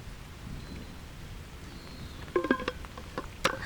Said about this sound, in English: Looks like another storm's actually rolling in right now.